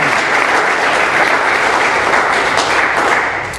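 Loud, sustained applause from the audience at an AA speaker meeting in Doylestown, Pennsylvania, many hands clapping densely and evenly before tapering slightly at the end.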